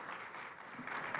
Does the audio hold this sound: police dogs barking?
no